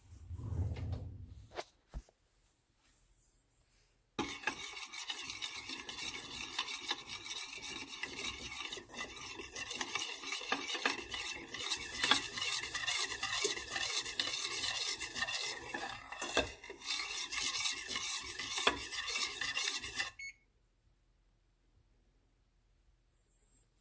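Honey being stirred into a tablespoon of melted butter for buttermilk biscuits, a steady close scraping and rubbing of a spoon against the bowl that runs continuously for about sixteen seconds, then stops.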